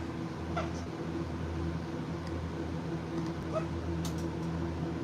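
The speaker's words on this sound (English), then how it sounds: "I ain't never seen no cats fight." Cats fighting in a played clip, with faint meows and yowls breaking out intermittently over a steady hum and background noise, heard at a distance and with no talk over them.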